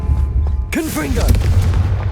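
A Confringo fire-blast spell cast in Hogwarts Legacy, a single booming burst with whooshing magical tones layered over a steady low rumble of game ambience.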